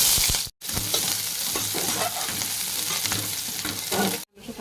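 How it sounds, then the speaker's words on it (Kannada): Sliced onion and green chilies hit hot oil for a home-style noodle dish, giving a loud, continuous sizzle with scraping stir clicks, broken by two brief silent cuts. "ಇಲ್ಲಿ ನಮ್ಮದು ಎಣ್ಣೆ ಬಿಸಿ ಆಗೈತಿ. ಉಳ್ಳಾಗಡ್ಡೆ ಮತ್ತು ಮೆಣಸಿನ್ಕಾಯಿ ಹಾಕೋಣ"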